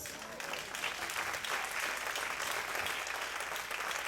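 Banquet audience clapping steadily throughout, a dense even wash of applause from a sizeable crowd with no voices standing out.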